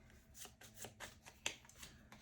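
Cards for the Harry Potter Hogwarts Battle board game are shuffled by hand, soft riffling swishes and taps repeating in a loose rhythm, close and quiet.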